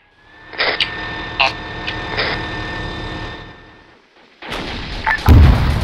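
In ARMA 3, a tank main gun fires a HEAT round with a sharp blast that trails into a long rumbling echo, followed by a second heavy boom and a burst of low crashing near the end; several smaller clicks sit between.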